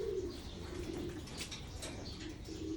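Pigeons in a breeder's loft give steady low, throaty coos, close and continuous, with faint chirps and a brief flutter of wings, and no voices.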